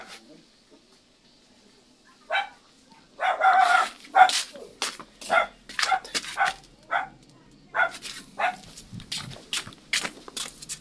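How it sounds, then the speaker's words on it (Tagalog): A dog barks repeatedly behind a house at night, a series of loud, fairly close yelps and barks in irregular bursts, with a faint rooster-like call and low background noise between them. "Nag-iingay yung aso ko."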